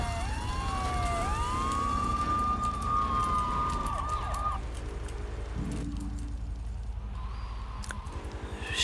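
A police siren in the video game GTA 3 wails loudly in a rising and falling sweep, then cuts off around midway, leaving in-game engine rumble and street noise with a few brief clatters.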